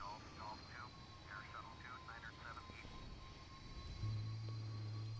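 A United Airlines McDonnell Douglas DC-10 taxis with its engines at idle, a steady drone with a high whine on top. A voice speaks briefly in the cockpit, and a low hum swells near the end.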